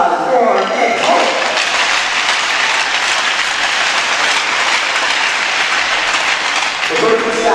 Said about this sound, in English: Please give a round of applause for Nick Holt.